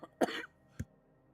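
Two short coughs from a person with a cough during a gaming live stream, the first harsher and stronger, the second brief and softer, close to the microphone with no talk.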